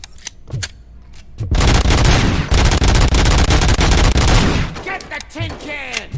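Loud, sustained automatic gunfire in RoboCop: Rogue City, a dense rapid burst lasting about three seconds after a couple of early shots, then trailing echoes and ricochets, with a shouted voice at the start.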